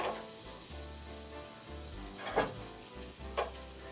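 Onions sizzling steadily in butter in a pot, with a wooden spoon scraping through them now and then, a constant close crackle underneath.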